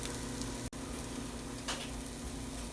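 Sweet potato hash fries in about a tablespoon of oil, giving a steady, even sizzle that holds throughout, with one brief dropout and a faint clink partway through.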